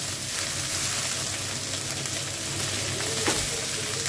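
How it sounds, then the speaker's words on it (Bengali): Brinjal pieces and drumstick flowers fry in a pan with a steady, close sizzle and crackle that holds at an even loudness throughout, with a brief sharper pop near the end and no talking. "এবার ঢাকা দিয়ে বেগুনগুলো একটু ভাজবার জন্য অপেক্ষা করব"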